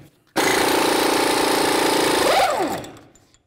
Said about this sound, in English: take off our axle nut using a 36 millimeter socket